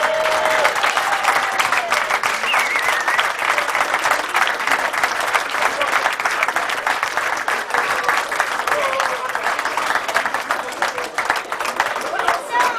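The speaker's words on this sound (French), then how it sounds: "Toutes ces personnes-là maintenant vont vous applaudir car sans vous nous ne serions pas là ce soir." Team and staff applaud the audience after a match, giving loud, dense, continuous clapping that lasts throughout. A few voices call out faintly through it.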